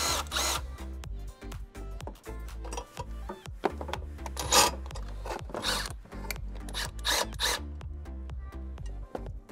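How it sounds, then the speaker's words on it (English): Two 10 mm nuts come off a Nissan Ariya 12V battery bracket, with close ratcheting clicks and metallic rasping in irregular bursts and small clanks from the tools. "we're going to remove the bracket assembly here, which is two 10-millimeter bolts on either side"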